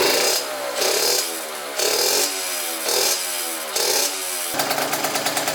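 Yamaha YSR50 mini bike with an upgraded exhaust, engine revving in repeated bursts that rise and fall, loud and close, ending in a sharper rattling blip.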